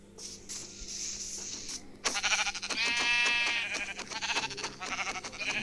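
Several Minecraft sheep bleat in wavering cries, close and clear, over a faint steady hum with no talking.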